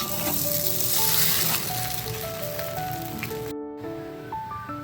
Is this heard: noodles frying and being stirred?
yes